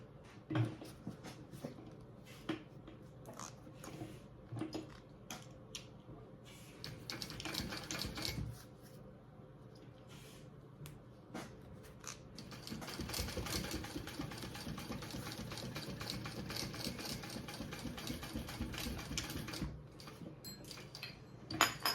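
A sewing machine stitches binding onto a fabric travel belt in steady rapid runs with brief pauses, its mechanical chatter close and fairly quiet.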